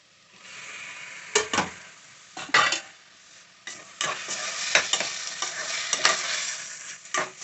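Prawns with onions sizzling and frying in a pan for a Telugu gongura prawn curry, stirred with a spatula in several scraping strokes over a steady close sizzle.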